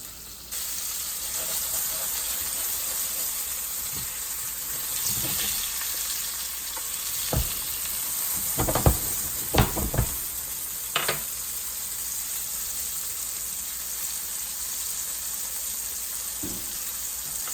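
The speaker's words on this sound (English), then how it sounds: "Just throw them right in there. Let's cook them up." Puget Sound flounder fillets fry in a pan with a constant loud, close sizzle, broken by several sharp clattering bursts midway as pieces are moved, with no talking.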